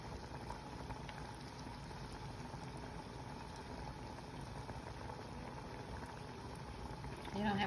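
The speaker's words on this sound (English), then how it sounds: "I'm gonna let it boil kind of hard before I turn the eye off" Water boiling hard in a pot of Mexican rice, a steady dense bubbling that holds evenly throughout and swells a little louder at the very end.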